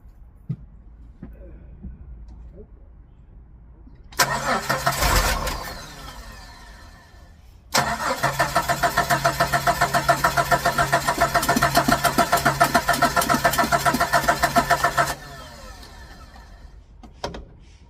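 A Jeep YJ engine, dosed with starter fluid, coughs briefly and then cranks in a fast, even rhythmic chug for several seconds before falling quiet. Small clicks and handling noises come before and after the cranking.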